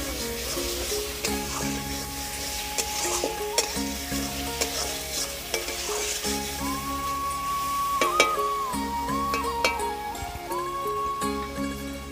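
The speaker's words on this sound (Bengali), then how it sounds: "দিয়ে দেবো পরিমাণ মতো হলুদ, দিয়ে নেড়ে চেড়ে দেবো" Turmeric is stirred into a fish curry in a frying pan, with a continuous sizzle of hot oil broken by repeated scraping and clinking of a spatula against the pan.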